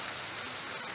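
Rain falls steadily outdoors during a tournament awarding, a dense, even hiss of drops on surfaces heard up close, with no one speaking.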